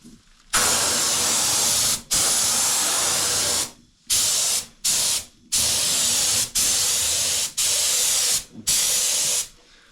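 Spray gun fed by a 100 litre air compressor painting a trailer tent, loud hissing bursts of spray, one long pass followed by several shorter ones separated by brief silences.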